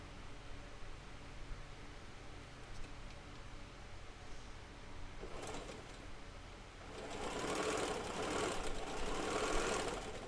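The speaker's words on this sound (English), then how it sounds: "Get these sewed together real quick so I can show you" Sewing machine stitching half-square triangle quilt pieces together, a steady low mechanical whir that grows louder and busier in the second half, with no talking.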